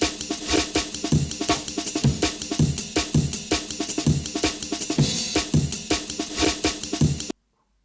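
Jungle breakbeat loop with a reversed snare rising into a forward snare, driving steadily for about seven seconds with busy, loud drum hits before stopping abruptly.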